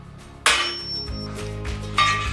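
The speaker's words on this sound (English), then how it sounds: "Always use a punch." Two sharp metallic strikes ring out as a hammer drives a metal punch to mark hole positions on a DIY RV rear rack. The blows are close and well spaced, over a low mechanical hum.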